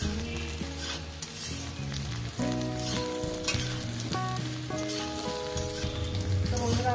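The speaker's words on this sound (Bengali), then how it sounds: "পেঁয়াজগুলো একটু আলু ঢেঁড়সের সঙ্গে ভেজে নেবেন" Onions, potatoes and okra fry in a pan for a simple okra bhaja, giving a steady, close sizzle with stirring scrapes throughout and a faint background hum.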